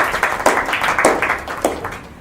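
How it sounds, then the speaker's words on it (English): A small retreat audience claps in a loose, uneven rhythm, with individual hand claps distinct and fairly close. "Round of applause."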